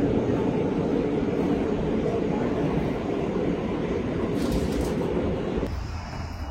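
Constant loud rumble and rush of a moving train heard from inside, a steady low drone that eases slightly near the end.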